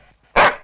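One loud, close dog bark, a single short burst standing alone in a scene set in a Bollywood action film.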